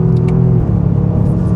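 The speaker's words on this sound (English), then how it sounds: "it's a growly tone to the engine, so of course it's entertaining" Engine of a 2024 Toyota GR Yaris on road and track, holding a steady, growly, close-up drone with a throaty low rumble through a short stretch, with no voices.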